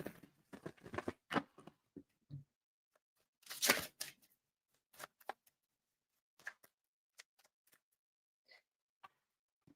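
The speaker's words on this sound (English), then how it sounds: "But this one I do have to shuffle." Tarot cards are shuffled by hand in irregular bursts of soft riffling and tapping, with brief quiet gaps between handfuls.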